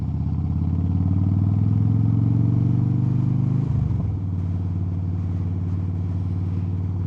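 A 2007 Harley-Davidson Softail Deuce motorcycle engine drones steadily while riding, a loud low rumble that climbs slightly in pitch, stumbles briefly as if shifting, then settles back into an even throb.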